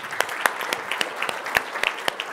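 Applause from a summit audience after a panel discussion, a short burst of distinct, fairly sparse claps, moderately close and alone without talk.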